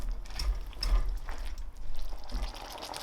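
A Spice Tailor korma curry sauce is stirred through in a pan, giving irregular wet scraping and clicking strokes at close range with soft bubbling between them.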